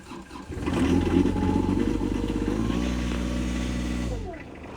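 A tractor engine runs at high revs, a loud, steady droning roar that swells in and holds before easing off and dropping away near the end.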